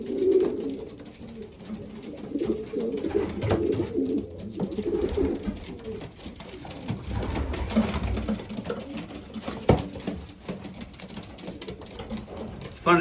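Racing pigeons coo in their loft at feeding time, soft throaty calls repeating over a low background hum and some clatter, fairly close.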